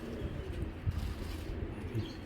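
Soft, low coos of a Giribaj high-flying pigeon repeat a few times, faint and close, over a quiet background.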